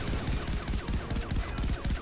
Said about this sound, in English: this gun has a lot of recoil